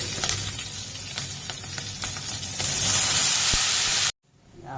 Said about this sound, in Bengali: চিংড়ি মাছটা একটু ভাজা ভাজা হোক, তারপরে দিব মশলা